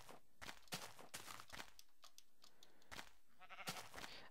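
Minecraft sheep bleat in short repeated bursts, several calls spaced irregularly over a low game background, fairly faint and close.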